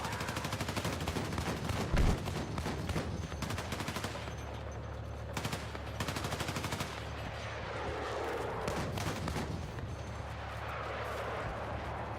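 Gunfire in a Battlefield 6 battle with snipers around, dense rapid cracking bursts early on, then scattered shots and distant booms fading into a rumbling background.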